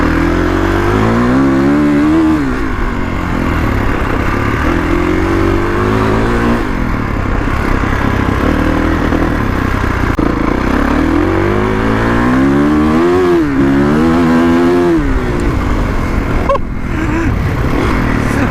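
A 2021 Kawasaki KX450X dirt bike engine runs steadily up close on a dirt track, rising and falling in repeated revving surges with a constant rough drone underneath and no talk.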